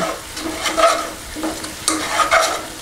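Garam masala being stirred into a frying biryani masala for a Kerala chicken biryani, scraping spoon strokes in a few bursts over a soft sizzle, close and fairly loud, without speech.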